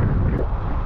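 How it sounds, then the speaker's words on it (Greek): Strong wind buffets the microphone while kitesurfing under the Rio–Antirrio cable-stayed bridge in rain, a loud, close, continuous roaring rumble with no speech. "ο αέρας έχει τρελαθεί, αλλάζει κατεύθυνση όλη την ώρα"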